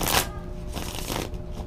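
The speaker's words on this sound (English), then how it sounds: "shuffle po muna dati ng ating cards" Tarot cards are shuffled close by in a steady riffling, papery rustle, with no talking.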